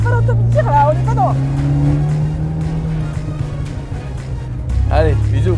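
A car drives with its engine droning steadily and revving, then its tires squeal briefly in a skid, while people talk loudly inside over the engine noise.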